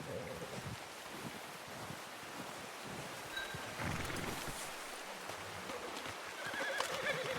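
A horse in the Red Dead Redemption 2 video game neighs and snorts with soft hoof clops, faint and distant over quiet outdoor ambience.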